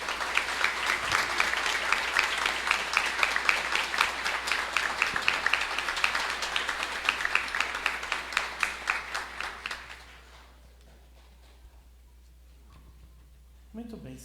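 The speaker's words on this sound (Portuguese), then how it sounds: "Vamos dar uma calorosa salva de palmas a todos." A church congregation at a novena Mass for Saint Jude applauds in a warm, full burst of many hands that runs strong for about ten seconds, then thins to a quiet room with a few stray claps.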